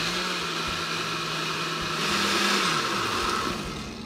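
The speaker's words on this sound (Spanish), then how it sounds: "Vamos a ayudarle a la licuadora para que nos quede bien finito el queso." A blender runs steadily, whirring as it purées cheese and milk for Salvadoran quesadillas, with a loud, continuous motor drone that shifts pitch slightly midway.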